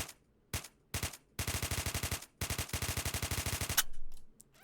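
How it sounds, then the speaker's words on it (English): Several bursts of rapid automatic gunfire in the Roblox game ER:LC, crisp and close, with short pauses between volleys and one long sustained burst near the end. "So I'm gonna shoot my weapon in 3, 2, 1."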